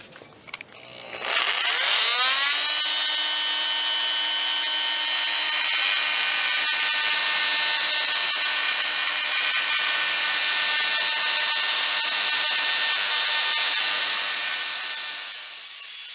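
A power tool, used in place of a tile saw, cuts a ceramic tile clamped between two pieces of wood as a guide. It spins up and grinds loud and steady at close range, whining continuously for about fifteen seconds before easing slightly.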